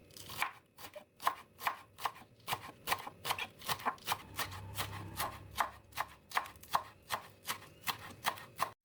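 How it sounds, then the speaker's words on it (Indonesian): A knife chops two stalks of spring onion on a board in a quick, even rhythm of sharp, close knocks, about two strokes per second, with no talking over it. "Kemudian potong-potong 2 batang daun bawang."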